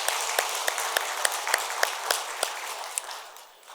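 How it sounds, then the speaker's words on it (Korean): A church congregation claps in encouragement for a newly appointed deacon, a moderate crowd of hands producing steady clapping with a few sharper individual claps, fading toward the end. "우리 집사님을 위해서 함께 격려의 박수 해주시기 바랍니다."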